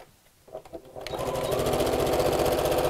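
Sewing machine stitching the dividing lines of a pocket on a fabric dust cover, starting with a few slow stitches then settling into a fast, steady, close run.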